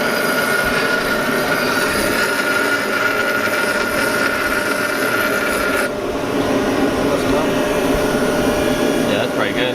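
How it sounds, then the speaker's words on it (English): A grinder works a small lip off the inside gear of a VW VR6 Jetta transmission during a limited-slip differential install, a loud continuous harsh whine that shifts tone partway through. "grinding that little lip on the inside gear"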